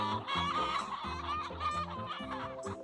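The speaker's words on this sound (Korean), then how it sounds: "방목된 닭들이 무아지경으로 바닥을 쫀다." Free-range chickens pecking the ground outdoors, a dense chorus of close clucks and throaty calls overlapping continuously throughout.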